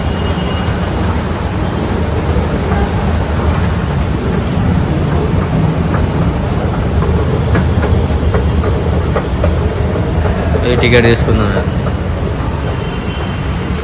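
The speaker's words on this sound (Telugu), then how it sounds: "ఆల్రెడీ మెట్రో వచ్చింది" A Hyderabad metro train arrives at a platform with a steady rumble, its wheels rolling and squealing loudly along the rails, and a brief high screech near the end. A voice speaks briefly over the noise.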